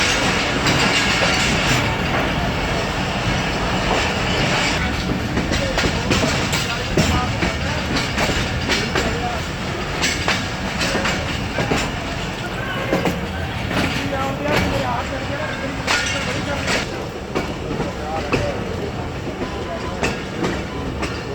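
The Allama Iqbal Express pulls out of Khanewal Junction at dusk, a steady loud rumble of wheels and carriages with rhythmic clickety-clack from an old train car, continuous throughout.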